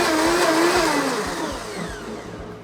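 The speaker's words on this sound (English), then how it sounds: "All right, so it's just been blended." Blender running steadily as it mixes a Thanksgiving cocktail, a loud continuous whir with rising and falling pitch and rhythmic churning pulses, heard alone with no voices.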